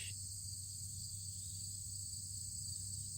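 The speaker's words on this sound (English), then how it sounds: "I don't know if you can hear the crickets" Crickets chirp steadily in a field on a hilltop farm paddock, a faint continuous high-pitched trill alongside a low steady hum, with no voices.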